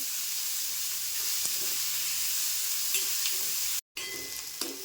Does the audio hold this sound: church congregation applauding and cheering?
no